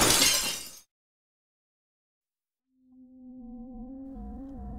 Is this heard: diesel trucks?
no